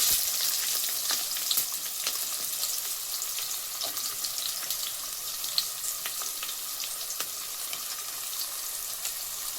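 Onions frying in a pan with mustard seeds for a brinjal curry, giving a steady, close, bright sizzle with crackles and small pops throughout, no voices.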